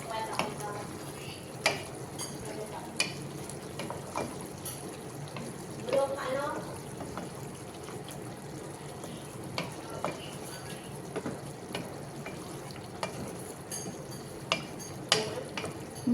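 Chicken curry with gravy bubbles and sizzles in a pan while a spoon stirs it, with occasional clinks of utensil on metal, a steady close cooking texture throughout, and no clear speech.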